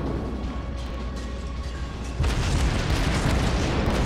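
Guns of the Russian cruiser Bogatyr firing in the video game World of Warships, steady low rumble that jumps into a loud sustained roaring blast partway through and stays heavy to the end.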